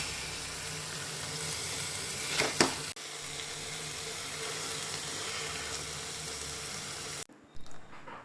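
Paneer with tomato and spices frying in a pan, a steady close sizzle that runs evenly, with a brief louder crackle and a few soft clinks near the end.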